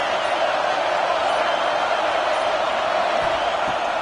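Steady, dense roar of a stadium crowd at a football game on a fourth-down play, a constant wash of massed voices with no breaks.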